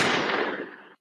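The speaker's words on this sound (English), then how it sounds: "let me get them gunshots going real quick to wake y'all up on this Monday" Rapid burst of gunshot sound effects played loud and close on a podcast, a dense crackling volley lasting about a second before cutting off abruptly.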